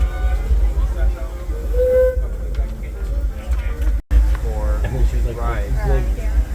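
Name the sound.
Disneyland Railroad train Holiday 5 riding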